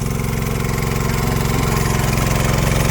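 An engine-driven water pump runs at a steady idle-like chug beside a pond in a rice field, its rhythmic mid-pitched engine note loud and unbroken throughout.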